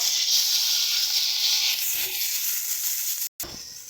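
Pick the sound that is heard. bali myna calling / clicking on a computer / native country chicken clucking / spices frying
spices frying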